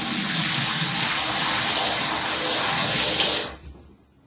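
Water rushes steadily down an unclogged bathroom sink drain in a loud, close, hissing flow, then cuts off abruptly near the end, leaving quiet.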